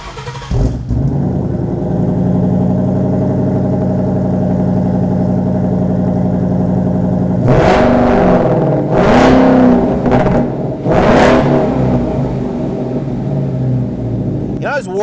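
A 2015-2017 Mustang Premium Fastback GT with a Cervini 3-inch stainless cat-back side exhaust idles loudly and steadily up close, then blips through three sharp revs before settling back to idle.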